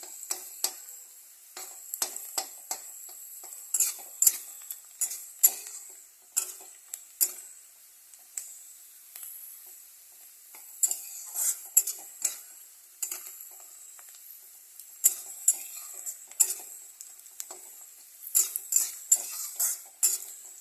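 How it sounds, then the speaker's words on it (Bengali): Onions being stirred in a pan with a metal spoon, a sparse run of sharp clinks and scrapes with faint sizzle between them, close up and without talk. "পেঁয়াজটা আমার লাল লাল করে ভাজা হয়ে গেছে"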